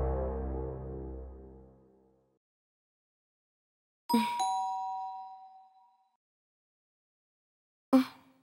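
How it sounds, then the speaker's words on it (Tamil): A doorbell rings in a Tamil thriller film: two distinct ding-dong chimes come a few seconds apart in otherwise silent surroundings, after a fading tonal sound at the start. "மறுநாள் காலையில காலிங் பெல் சவுண்ட்"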